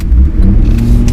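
Cadillac XLR with a 320-horsepower engine on a C5 chassis accelerating hard, a loud, close, deep engine roar that swells briefly.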